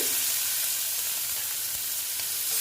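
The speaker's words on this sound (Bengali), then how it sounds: "এবার আমি পেঁয়াজ কুচি দিয়ে দিলাম" Chopped onions fry in hot oil with garam masala, giving a steady, close, hissing sizzle that stays even throughout with no voices.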